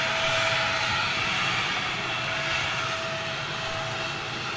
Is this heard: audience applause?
no